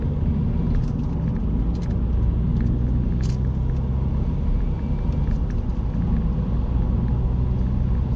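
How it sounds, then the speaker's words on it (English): Steady low road rumble and wind roar from a car travelling at motorway speed, captured by a GoPro on a suction-cup mount; continuous and loud throughout with no talking. "You can maybe hear what it's like if you're on a motorway."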